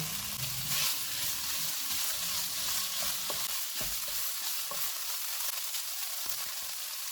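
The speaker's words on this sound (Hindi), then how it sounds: "एक प्याज डालेंगे, इनको 2 से 3 मिनट तक भूनेंगे।" A chopped onion fries on medium heat for a beef momo filling, producing a steady moderate sizzle with occasional light scraping and knocks, and nobody talks.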